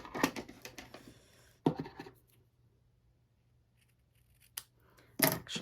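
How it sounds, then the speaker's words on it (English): Scissors cutting ribbon for a candy cane craft, quiet close snips in a few short clusters separated by near silence, with no talk. "Actually, my scissors are starting to get dull"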